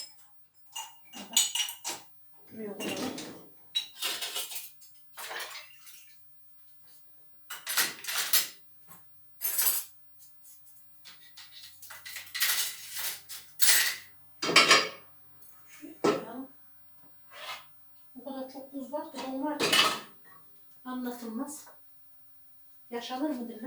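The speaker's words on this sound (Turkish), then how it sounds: "Şu bardaklarımı da alayım." Glasses and dishes clink and knock as they are handled in a home kitchen, in scattered close bursts with occasional pauses, while someone talks in between.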